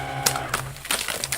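Taped card stock is peeled off printer paper in several short tearing rips and crackles, close up, interspersed with light rustling and small knocks.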